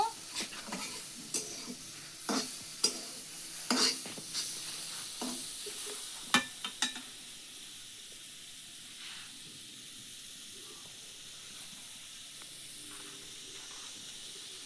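Banana stem bhaji frying in a pan and being stirred, with sharp scraping and clinking strokes in the first half over a soft sizzle, then only a quiet steady hiss of frying.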